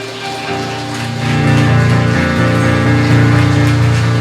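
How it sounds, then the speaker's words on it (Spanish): Steady rain, a dense broadband hiss that swells after the first second and holds constant, with a low hum underneath and no talking. "Qué bueno es que está lloviendo."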